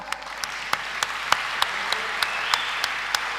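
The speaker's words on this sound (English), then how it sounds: "give the Lord a big clap" A church congregation in Goa claps for the Lord, with crisp, fairly regular claps spaced roughly every third of a second over a steady wash of crowd noise, fairly loud and close.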